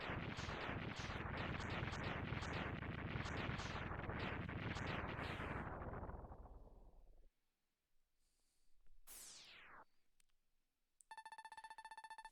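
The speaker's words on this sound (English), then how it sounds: "What was that explosion?" Loud, rapid chain of booming explosion bursts from Mega Man X3 rolls on for about seven seconds and dies away, followed by a sharp descending electronic sweep and a steady synthesized tone near the end.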